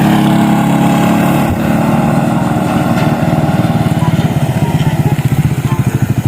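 A Suzuki Raider 150 Fi motorcycle engine runs close by during riding practice, its chugging pulses growing louder and more distinct toward the end.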